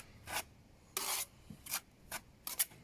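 A trowel rubs and scrapes over mortar on a stone extension wall, five short rasping strokes spaced irregularly, close and fairly quiet with no talk.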